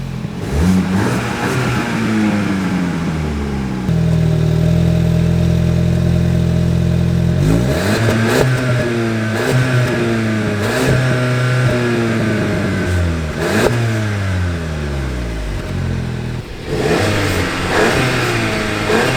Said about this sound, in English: She definitely sounds a little bit nicer now. I can hear some exhaust notes.